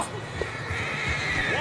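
A horse whinnies in the Western video game Red Dead Redemption 2, a short rising neigh with hoof clatter, heard under game dialogue and ambient sound.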